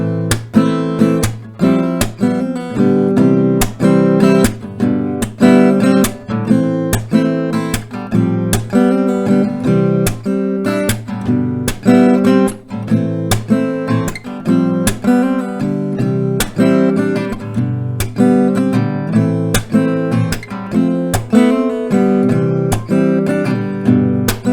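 Acoustic guitar plays a song with steady rhythmic strumming and picked melody notes woven through, continuous and close for about twenty-five seconds with no voice.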